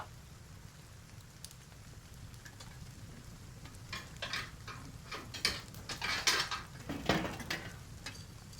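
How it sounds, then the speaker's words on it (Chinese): A stove fire being poked in a cold room, heard as quiet low rumbling and then a run of scraping, clanking metallic pokes that grow louder toward the end, with no voices. "我把炉子再捅暖和一点"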